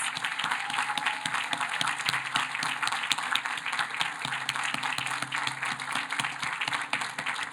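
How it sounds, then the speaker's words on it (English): Sustained applause from a commencement audience honoring prize finalists at a college graduation ceremony, dense steady clapping with a few louder individual claps, filling the whole stretch at an even level. "Please join me in giving the finalists a round of applause."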